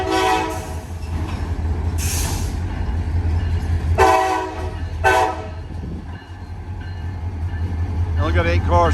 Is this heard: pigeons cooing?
no